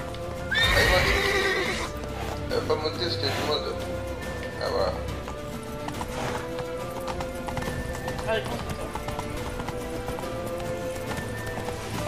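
A horse in The Witcher 3 whinnies loudly near the start, then its hooves clip-clop at a gallop steadily throughout, with a player talking over the game sounds.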